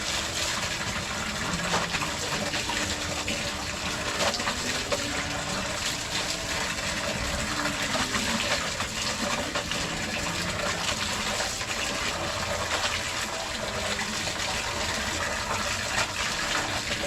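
Water gushes steadily from a tap during household cleaning, a continuous broadband rush without breaks, close and fairly loud with no voices.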